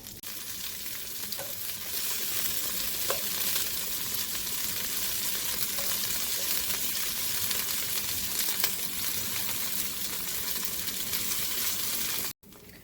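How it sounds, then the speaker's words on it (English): Meat browning in small batches in a pot for Mulligan stew gives a loud, continuous dense sizzle that holds steady throughout, with a brief cut right at the end. "I'm going to add the meat to this in small amounts. You don't want to overcrowd it. And we want it to brown on all sides of the meat."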